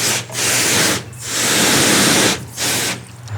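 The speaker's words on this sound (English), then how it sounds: "give the spool a good rinse" Water sprays in a steady hiss over a fishing reel spool, rising and falling in three long bursts with short breaks between them, loud and close.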